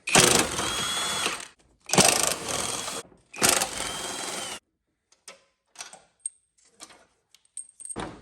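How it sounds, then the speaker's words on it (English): A 1/2-inch impact wrench on a 6-inch extension with a deep socket removing 15mm motor mount bolts on a Ford Focus, three loud close hammering bursts, then light metallic clinks and rattles as the bolts come free. "So we're gonna start with the 15mm bolts. I've got a 6-inch extension, a deep well socket."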